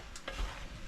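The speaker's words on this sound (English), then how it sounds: "We'll just mix that together." Duck mixture being stirred with Louisiana hot sauce in a pan, a brief wet scraping stir over a soft steady sizzle, close and moderately quiet, without speech.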